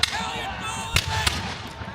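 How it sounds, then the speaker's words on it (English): Musket volleys from British lines at a Battle of Bunker Hill reenactment, several sharp distant cracks in quick succession over crowd murmur and a voice. "There it is, there's the first of the British volleys."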